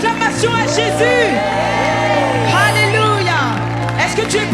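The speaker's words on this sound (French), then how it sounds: "Est-ce que tu peux donner un tonnerre d'acclamation à Jésus?" A church congregation cheers and acclaims during worship, a loud crowd roar with whoops and shouts and overlapping voices, continuous and close throughout.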